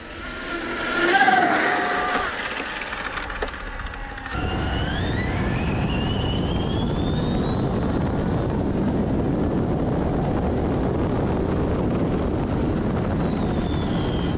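A radio-controlled car with a NASCAR-style body tears past at over 100 mph, its high electric whine rising and holding as a loud, steady roar that sweeps upward in pitch and stays close.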